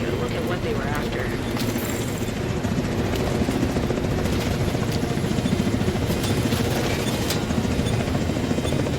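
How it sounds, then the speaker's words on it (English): Marauder-class quadcopter in The Division 2, a continuous loud rotor drone and whirr that holds steady throughout, with a voice heard in the clip. "Marauder-class quadcopter detected."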